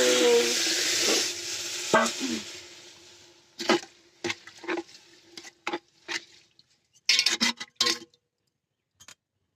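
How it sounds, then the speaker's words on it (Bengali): Aatop rice being stirred and fried in a pan: a loud sizzle fades after a few seconds into a series of sharp, separate scrapes and clinks of the spoon against the pan, close up. "এগুলো ভালো করে নেড়ে চেড়ে 5 মিনিটের মতো ভেজে নেব।"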